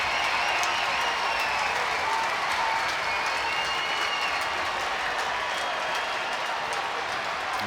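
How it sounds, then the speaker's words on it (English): Large ice hockey arena crowd at a Sheffield Steelers versus Guildford Flames Challenge Cup game roars and applauds steadily, a dense, sustained wash of cheering and clapping filling the whole stretch. "And he'll get a big cheer on his way to the penalty box."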